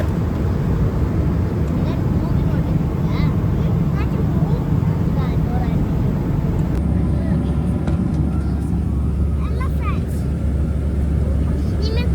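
Steady, loud roar of jet engines fills an aircraft cabin in flight over the Pacific Ocean, a constant low rumble with a faint background hum throughout.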